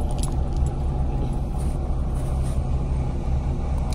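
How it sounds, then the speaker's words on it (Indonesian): Constant deep engine rumble and road drone inside a PO Antar Jaya bus travelling to Bekasi, loud and steady, with faint rattling and jingling from the cabin on top. "saya putuskan buat naik bis Antar Jaya"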